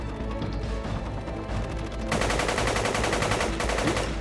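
Rapid automatic gunfire crackles in dense, loud bursts, starting in the background and then erupting into a sustained close volley of rattling shots that continues to the end.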